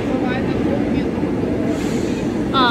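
A Paris metro train rumbles steadily in an underground station, with a continuous low roar and a brief brake or door squeal at the end, while people talk over it.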